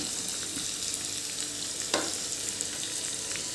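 Chopped onion fries in hot oil with cumin seeds in a pan, a steady close hiss of sizzling with a brief stirring scrape partway through, and no talking.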